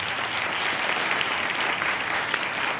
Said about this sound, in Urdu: آئیے اس کے لیے زوردار تالی۔